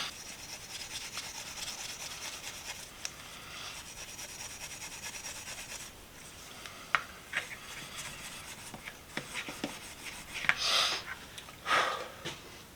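Steel wool rubbed over a blued steel hand tool to work the bluing in, a steady close scrubbing hiss with a few brief scratchy bursts toward the end.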